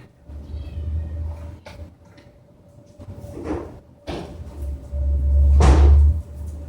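A house cat meows a few times nearby, mixed with bumping and cupboard or door thuds in a small indoor room, with low rumbling noise underneath.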